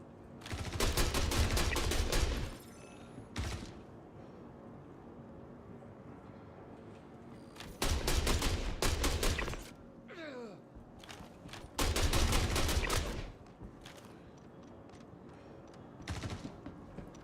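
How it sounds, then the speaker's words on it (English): Bursts of automatic gunfire in a video game, three long volleys of rapid shots with shorter isolated bursts between them, loud and close over a low background hum, aimed at the player. "Who's fucking shooting me?"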